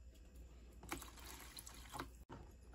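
Water poured into a container of mustard seeds and apple cider vinegar, a brief, quiet trickle with a few soft liquid splashes heard close by, alone.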